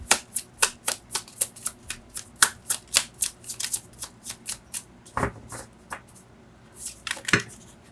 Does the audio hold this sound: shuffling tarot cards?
yes